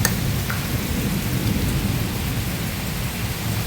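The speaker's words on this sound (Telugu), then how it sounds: "ఉరుముతుంది వర్షం దంచి కొడుతుంది" Heavy rain pounds down in a dense, unbroken roar, with low rumbling thunder rolling underneath throughout, loud and close with no voices.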